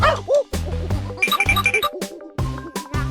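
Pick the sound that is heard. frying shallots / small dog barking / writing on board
small dog barking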